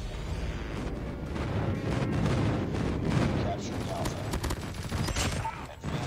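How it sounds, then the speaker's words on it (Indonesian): An airstrike in Call of Duty with rolling explosions and rapid gunfire, a steady dense barrage under a voice, swelling midway and then thinning out. "Friendly airstrike incoming."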